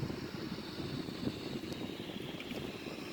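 Steady roar of a Sukhoi-30 jet in flight at high airspeed, a dense, even rumble with rushing air noise that stays loud and unbroken throughout.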